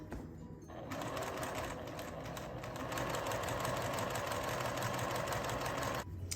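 Close, continuous whirring of a sewing machine stitching quilt block pieces together for a farm-themed block, one sustained run that stops abruptly near the end.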